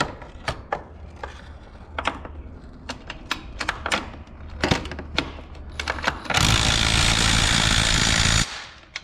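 A Pontiac 6000 Wagon's supercharged 3800 engine swap has its bolts tightened: irregular metallic clicks and ratchet ticks, then a loud, steady burst of a power tool running for about two seconds.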